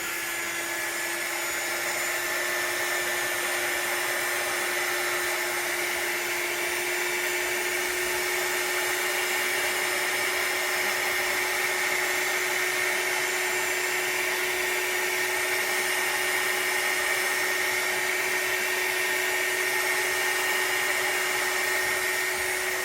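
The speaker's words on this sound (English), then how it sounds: "So excuse the noise of this heat gun for the moment." A heat gun held close over resin gives a steady, loud blowing roar with a whining electric hum, running unbroken throughout, with no voices.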